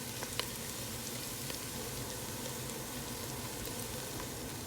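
Onions frying in a pan for Jordanian mjadra hamra, a steady, even sizzle with faint crackles and pops throughout.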